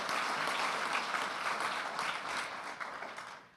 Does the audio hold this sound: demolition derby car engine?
no